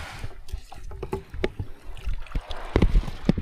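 Strong water current rushing around a small boat at sea while fishing, with irregular splashes and slaps against the hull close by and a few heavier knocks near the end.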